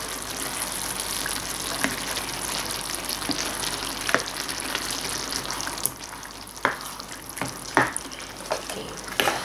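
Filipino-style spaghetti sauce being stirred in a pan, a steady sizzling frying hiss with several sharp utensil scrapes and clicks toward the end, close and fairly loud, with no talking.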